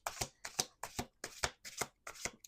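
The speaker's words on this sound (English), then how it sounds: "Last shuffle." Tarot cards being shuffled by hand in six quick riffling bursts, each a crisp papery flutter separated by brief pauses, close and fairly quiet with no talking.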